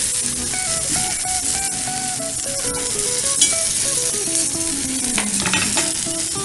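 Chicken pieces sizzle steadily in a hot frying pan just after being flipped, a bright continuous crackle with occasional soft scrapes and stirring clinks, close and fairly quiet, with no talking.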